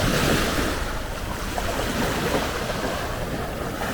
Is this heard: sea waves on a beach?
yes